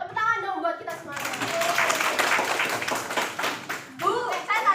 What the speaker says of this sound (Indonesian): Tepuk tangan dong buat kita semuanya.